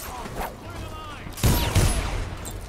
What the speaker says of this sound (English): I keep firing twice.